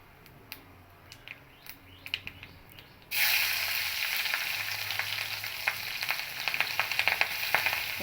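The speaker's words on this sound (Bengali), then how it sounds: "তুলে নিয়ে ওই তেলের ভিতরেই কালো জিরে আর কাঁচা লঙ্কা ফোড়ন দেব" Black cumin seeds and green chillies dropped into hot oil left from frying pabda fish crackle into a sudden loud, sustained sizzle with sputtering pops, following a few quieter clinks of utensils, near and alone.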